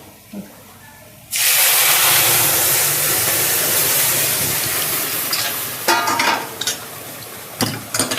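Dal is tipped into a hot pan of oil for a Bengali village-style beto shaak dal, setting off a sudden loud, sustained sizzle and hiss. The sizzle stays strong for several seconds, with brief stirring scrapes near the end.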